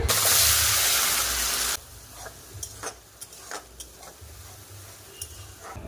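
Hot oil crackles and hisses loudly in a heated pan while prawn curry cooking begins, then settles into quieter sizzling with scattered pops and utensil clicks, no voices.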